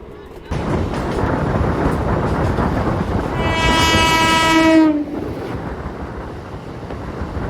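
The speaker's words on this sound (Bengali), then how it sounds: "এখন পাশ দিয়ে ক্রস করবে নিউ দিল্লি হাওড়া রাজধানী এক্সপ্রেস।" The New Delhi–Howrah Rajdhani Express roars past close by, sounding a long loud horn over the rush and rattle of the passing wagons, heard from a moving local train near Talit station.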